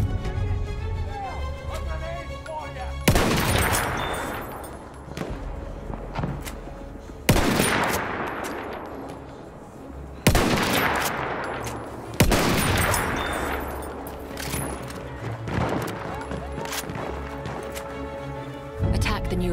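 Battlefield 1 combat roars with repeated heavy artillery blasts and rattling gunfire, loud booming bursts every few seconds over a continuous din of battle, while a voice talks over the action.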